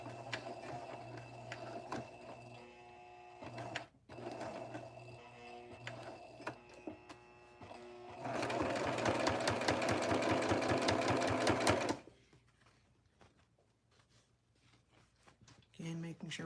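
A sewing machine stitches a vest along a princess seam, first in short intermittent runs and then in one loud, steady burst of rapid mechanical clatter, while a person talks over and between the bursts.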